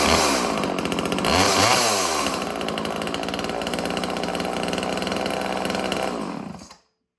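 A Homelite XL 16-inch chainsaw runs loud and close, revving briefly before settling into a steady buzzing drone, then cuts off sharply near the end.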